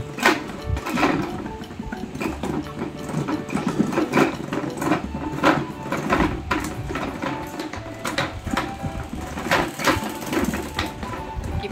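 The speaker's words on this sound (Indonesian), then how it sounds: "Kipas anginnya bunyi-bunyi guys." A noisy electric fan with a detached, loose blade rattles and whirs continuously, close and loud, with dense irregular clattering over a steady motor drone.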